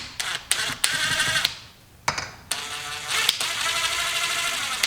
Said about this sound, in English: So we're going to hold on to the crank while removing this bolt.